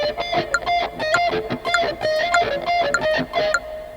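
Slow, picked electric guitar notes sound with a thin, weak tone from the picking hand striking outside its ideal spot, each note plucked separately over a faint metronome click.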